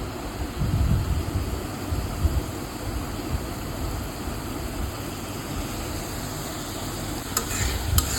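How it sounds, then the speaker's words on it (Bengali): Spice paste and onions frying for Bangladeshi egg bhuna, a steady close sizzle with scraping stirring strokes throughout, alone with no voices, and a couple of sharper clinks near the end. "মশলাটা একদম পেঁয়াজের সাথে ভালো করে ভাজা হয়ে যায়"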